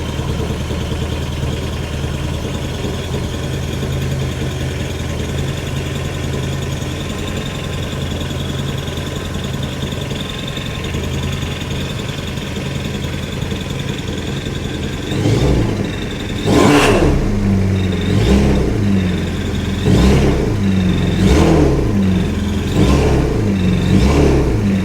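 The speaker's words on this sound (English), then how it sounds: "Strong crank, immediate start." Yamaha WaveRunner personal watercraft engine running steadily, then a strong crank and quick start followed by several loud, close revs in bursts near the end.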